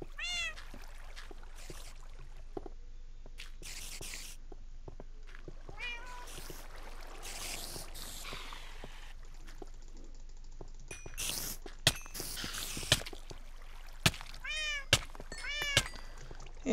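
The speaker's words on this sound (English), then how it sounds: "Cats?" Cats in the game Minecraft give repeated short meows at intervals over faint background, some near and some farther off, with a few soft clicks and no talk.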